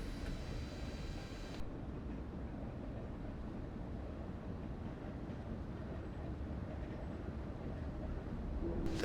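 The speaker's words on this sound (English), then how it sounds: "then I'll release and let the train coast once again" A train coasts after its brakes are released in Train Simulator 2015 on the London Bridge to Victoria route, giving a steady, even low rumble that runs the whole time with no talk.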